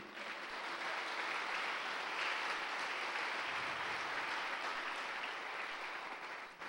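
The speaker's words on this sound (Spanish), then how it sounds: "Dale un fuerte aplauso al Señor" Church congregation applauding in worship, a steady, dense wash of clapping sustained for several seconds at a modest, somewhat distant level with no talk over it.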